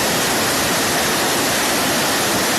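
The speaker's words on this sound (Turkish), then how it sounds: "Her vadiden bu şekilde su akıyor." Meltwater rushes down a valley on the Ayder plateau, a loud, steady, broadband roar of flowing water filling the scene without pause.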